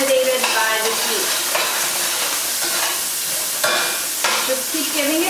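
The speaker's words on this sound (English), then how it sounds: "Just keep giving it a stir." Onions dry-browning in a pan with no oil, stirred steadily: a continuous loud hiss and sizzle with scraping strokes repeating roughly every second, no voices over it.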